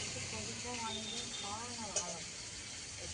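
Fish fries in a pan with a steady, close hiss and sizzle while people talk over it.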